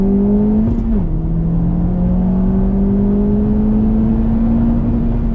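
Four-wheel-drive car launching hard off the line on a race track, its engine note dipping briefly then climbing steadily in a loud, close, sustained whine.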